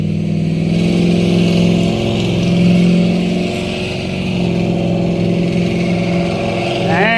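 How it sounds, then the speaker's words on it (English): A nearby truck engine runs loud and steady, a constant rumbling drone that swells slightly midway and never drops out. "Dang, that's a loud truck."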